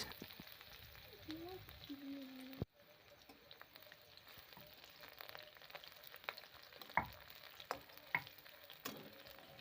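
Bay leaf, dried red chillies, whole cumin and chopped onion fry quietly in oil, a faint steady sizzle with light stirring scrapes and a few sharp clicks of a spoon against the pan.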